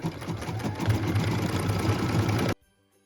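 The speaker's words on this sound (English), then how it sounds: "we're going to go ahead and stitch that angel hair right now" An embroidery machine stitches angel hair onto a Christmas ornament, its fast, steady needle chatter running loud and close for about two and a half seconds before cutting off abruptly into near silence.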